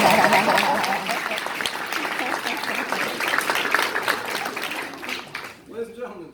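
Crowd applause at a ceremony, a dense wash of many hands clapping that fades out near the end as a voice begins.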